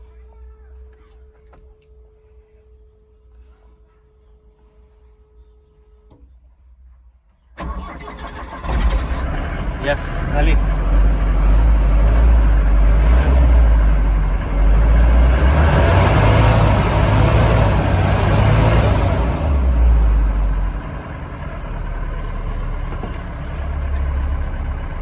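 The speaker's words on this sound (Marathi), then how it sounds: "आपण चालू ठेवू गाडी थोड्या वेळ" A car with an overheating problem, after its radiator terminal was tightened, is cranked and its engine catches at about seven seconds, then runs loudly with a deep steady rumble that revs up before settling, with brief speech over it.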